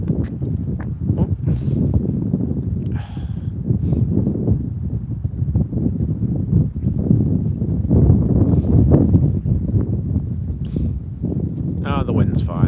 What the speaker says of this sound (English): the wind's fine